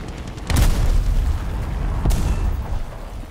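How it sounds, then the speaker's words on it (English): Bombs dropped from an Hs 123 A-1 biplane in War Thunder explode on a ground target, two loud, deep booms about a second and a half apart over a continuous rumbling engine drone. "Go ahead and drop two bombs just to make sure."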